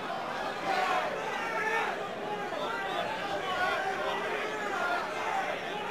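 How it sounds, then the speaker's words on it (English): A UFC 3 crowd at a 1994 mixed martial arts event roars in a dense, steady wall of cheering and chanting, with voices blending into continuous loud babble throughout. "listening to the crowd saying, Shamrock, come on"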